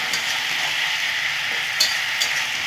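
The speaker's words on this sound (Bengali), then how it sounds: "বিন, সব সবজিগুলো আমি খুব সুন্দর করে ভেজে নেব" Cabbage, beans, pumpkin and carrot fry in a pan with a steady, close hiss of sizzling oil, broken by a couple of brief crackles and pops, with no talking.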